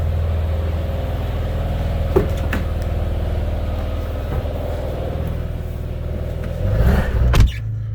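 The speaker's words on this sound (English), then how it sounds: "you can hear that the car is running" A Porsche 996 Turbo engine idles with a steady low rumble after a new fuel pump is fitted, a few clicks and knocks over it, and a brief rise near the end, heard from inside or close by.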